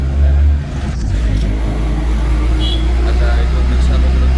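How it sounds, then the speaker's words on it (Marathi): An auto rickshaw engine drones steadily with a low, loud rumble during a nighttime ride, with traffic noise around it and people talking over the motor. "आता इथून रिक्षा पकडून चाललो मस्त"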